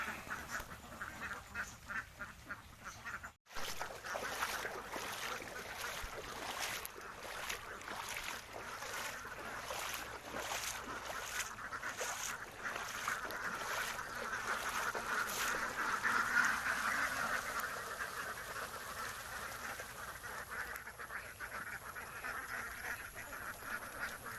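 A flock of ducks quacks continuously and densely for the whole stretch as they head into water in a rice-field setting, a steady chorus of overlapping calls that swells a little midway, with no talking.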